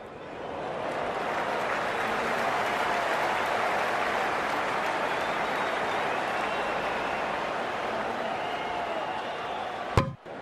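A crowd applauds in a cricket video game, with steady, sustained clapping and cheering throughout and a sharp thud near the end.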